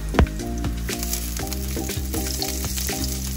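Garlic frying in hot oil, with a steady, close sizzle and crackle that pops sharply at the start, while a pan is stirred through it with rhythmic scraping.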